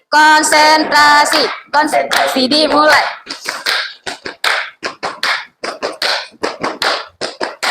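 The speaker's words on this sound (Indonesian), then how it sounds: "Nah, nanti di sini kita akan buat tepuk pose. Ini namanya tepuk pose." High school students perform a rhythmic hand-clapping game called tepuk pose, sharp group claps in a quick patterned beat after a few seconds of voices chanting together.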